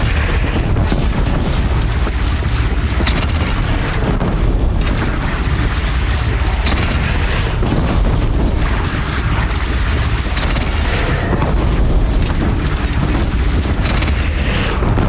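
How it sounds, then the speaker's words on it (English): Bridge in Horizon Zero Dawn shot down and blowing apart, a loud, sustained rumbling boom with crashing debris filling the whole stretch, dense and continuous throughout. "They're gathering under the bridge, Aloy. Bring it down on them"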